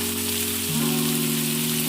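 Chopped onions and 100 grams of paneer fry together in a pan, giving a steady, close hissing sizzle that runs unbroken throughout with a low hum beneath it.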